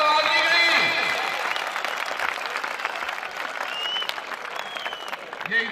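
Students and guests at a school farewell debate in Ali Pur applaud in a dense, sustained wash of clapping, with a voice speaking over it near the start and end.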